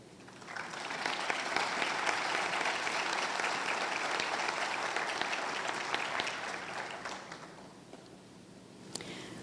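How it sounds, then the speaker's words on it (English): Steady applause from the audience at the opening ceremony of a remote sensing event, holding for several seconds before tapering off, with a faint click near the end. "Ladies and gentlemen, our applause to the authorities present in our event"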